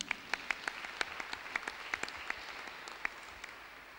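A church congregation claps hands for Jesus Christ. Sparse, quiet individual claps land at irregular intervals over a soft background rather than forming a full ovation.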